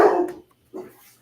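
A dog gives two or three short, loud barks close by, separated by brief silences, with no talk over them.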